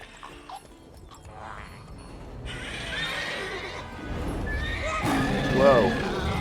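Roach the horse in The Witcher 3 neighs loudly with a rising, shaky whinny near the end, preceded by hoof clatter and game ambience; someone speaks over it.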